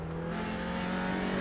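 A TCR touring race car accelerates hard at Spa-Francorchamps in a sim racing game, its engine holding a loud, steady high-revving drone throughout with no voices.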